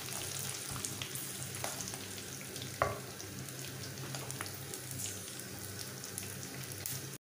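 Slit green chillies fry in oil in a pan for a tomato fish curry, producing a steady close sizzle with faint stirring scrapes and one brief clatter.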